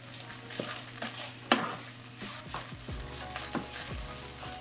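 Garlic gets stirred into a pan with other ingredients, giving a soft sizzle under repeated spoon scrapes and light knocks against the pan, close up and with no talking.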